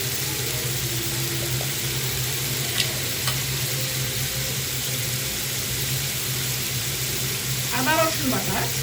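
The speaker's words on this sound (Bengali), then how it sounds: "মশলাগুলোকে আমি কষিয়ে নিব" Ground spices, coriander and cumin powder with chili, sautéing in a hot oiled pan, a steady soft sizzle and hiss running throughout with faint stirring, brief scraping near the end.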